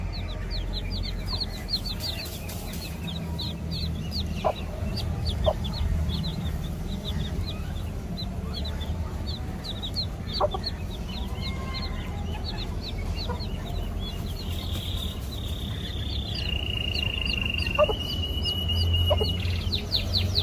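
Hens cluck and chirp steadily in short repeated calls, with a few sharper clucks and a drawn-out squawk near the end, close by and without talk.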